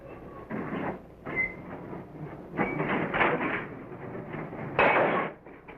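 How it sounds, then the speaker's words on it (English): Santa Fe freight cars being coupled produce a series of metallic clanks, scrapes and squeals in uneven bursts, with a louder jolt near the end, fairly close and without talk. "A brakeman couples together the cars for our train."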